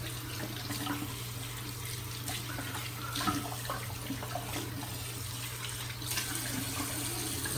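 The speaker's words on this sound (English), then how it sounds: "Just clean out the tub there of the soap." Water from a tap runs steadily to rinse soap out of a shaving tub, a soft, continuous splashing and hiss held close and even throughout, with faint clinks now and then and no talking.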